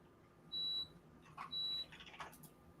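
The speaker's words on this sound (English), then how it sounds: "Is that beeping on one of y'all's, or is that me?" Two short, high electronic beeps about a second apart, clear and steady, with faint rustling in between.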